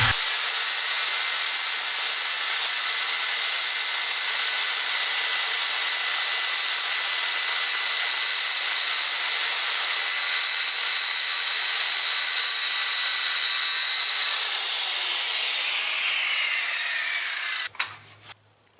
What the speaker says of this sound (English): now I'm going to go ahead and try to cut a grade 8 bolt. This is about a 1/2 inch diameter shank